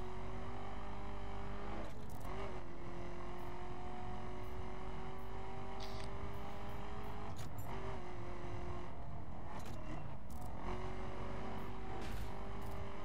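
A car drives in the racing video game The Crew, viewed from the in-car camera: a continuous loud engine drone with steady tonal hum, gear shifts and brief bursts of road and wind noise throughout, no speech.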